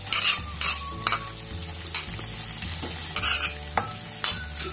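Ketchup being stirred into a chicken filling mixture in a bowl, with repeated scraping spoon strokes and soft wet squelches, close, alone and irregular.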